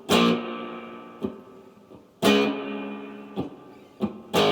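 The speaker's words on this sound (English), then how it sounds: "It's always nice to have some reverb when you slap." Sharp slaps on a three-string guitar ring out with a reverb effect: several percussive hits, some loud and some softer, each followed by a lingering, decaying wash of sound.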